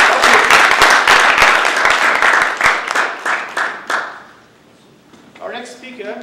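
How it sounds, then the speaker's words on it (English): Conference audience applauding a session speaker at a college lecture hall, dense steady clapping for about four seconds that fades out, followed by a voice speaking. "Once again, a big applause."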